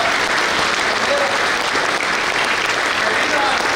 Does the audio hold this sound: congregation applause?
yes